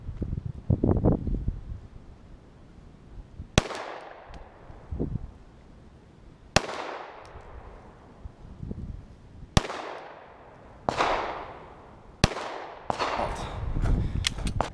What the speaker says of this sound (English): Let's try that again. All right, 4 more shots.